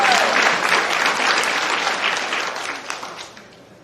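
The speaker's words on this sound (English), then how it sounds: "That's a good place to clap." Audience applause fills the room at a live podcast summit, loud and sustained clapping from a large crowd that gradually tapers off over a few seconds.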